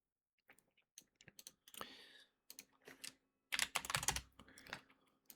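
Computer keys pressed at a desk during 3D model editing, with scattered light taps that turn into quick typing and a dense burst of rapid keystrokes near the end, close and fairly quiet.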